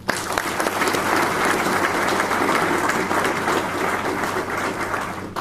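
A crowd of families, friends and guests at a National Guard change of command ceremony gives a sustained, loud round of applause, dense and continuous from start to finish.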